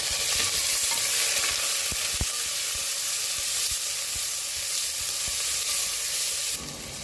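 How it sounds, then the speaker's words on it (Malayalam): Sliced onions frying in a pan for a Kerala country-chicken curry, a steady close sizzle with stirring clicks and scrapes, running evenly alone before easing slightly at the end. "ഇതും കൂടി ഇട്ട് നമുക്ക് ഒന്ന് ഒരു ഗോൾഡൻ ബ്രൗണിൻ്റെ മുമ്പിലുള്ള കളർ മാറ്റത്തിൽ നമുക്ക് വറുത്തെടുക്കാം"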